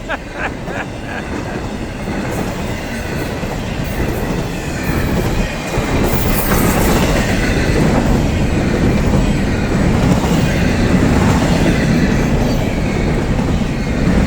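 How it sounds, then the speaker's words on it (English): A long freight train rumbles past loudly and continuously, with a steady rolling roar and rail noise that never lets up. "Look at this big, long, beautiful train."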